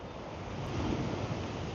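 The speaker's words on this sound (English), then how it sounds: "there's a nice sound of the sea" Sea waves wash onto the shore along a Dublin coastal walk, giving a soft, continuous surf hiss with a gentle swell that stays faint and even.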